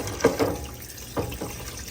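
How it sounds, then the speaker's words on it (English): Tap water splashes in short bursts at a sink while Gorontula fruit is rinsed, starting with cold water before warm, fairly faint and close with brief gushes. "I start with like cold water and then increase the water to warm hot temperature"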